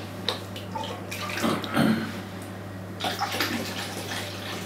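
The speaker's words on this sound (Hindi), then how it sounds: "इसमें थोड़ा सा गर्म पानी ऐड कर लें" Hot water splashes and gurgles as it is poured into a foot basin, in a couple of louder surges over a steady low hum, with no talking.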